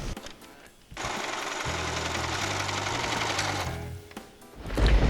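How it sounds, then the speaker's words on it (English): A sewing machine stitches a seam on a hand puppet's arm, running in one steady, loud mechanical whir for about three seconds. The run is framed by brief handling noise before and after. "I'm going to go ahead and just sew from here to there"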